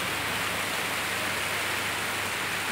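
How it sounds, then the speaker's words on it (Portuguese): Light afternoon rain falls as a steady, even hiss that stays constant throughout, with no voices or other distinct sounds. "Essa tarde deliciosa com essa chuvinha que eu amo."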